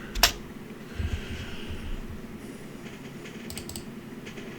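Typing a folder name on a computer keyboard: a few soft, quick key taps close by, mostly sparse clicks over a quiet room background, with no speech.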